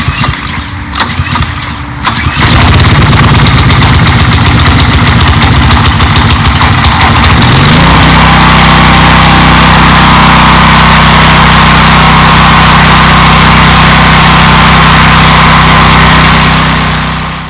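A Simpson MegaShot MSH3125 3200 PSI gas pressure washer engine catches after a few pull-cord rattles, revs up loudly, then settles into a steady, very loud running drone close by.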